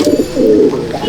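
A Madrasi pigeon coos close and loud in a single low, rolling call.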